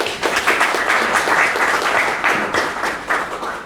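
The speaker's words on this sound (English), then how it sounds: "Can we just give him like another big round of applause?" A lecture audience applauds the speaker with steady, sustained clapping that fills the room, with no voices over it.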